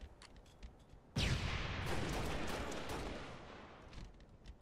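Gunfire in a pit capture-the-flag match: a sudden loud blast opens into a long roaring burst of rapid shots that slowly tails off, with faint ticking before it.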